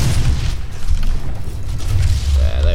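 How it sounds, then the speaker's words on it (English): Explosive shot weapon blast in the game Doom, a loud booming detonation with heavy low rumble, followed by mechanical clanks and a rising whine near the end. "Explosive shot."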